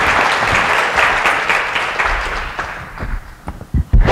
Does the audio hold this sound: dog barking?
no